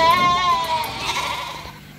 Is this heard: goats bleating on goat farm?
yes